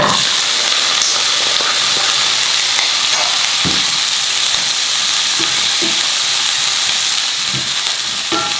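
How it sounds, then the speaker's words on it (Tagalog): Chopped onion and garlic sauté in hot oil for a binagoongan of pork ribs, giving a steady loud sizzle with occasional soft stirring knocks and no voices. "At ginigisa ko lang ito ng mga 25 to 30 seconds"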